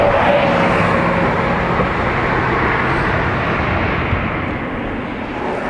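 An Airbus airliner at Dublin Airport gives a loud, steady broadband roar that holds for several seconds and eases slightly toward the end, with no voices over it.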